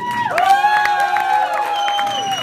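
An audience at a live show claps and cheers as a guest is introduced, a bright burst of crowd noise with whoops and a sustained ringing tone running through it.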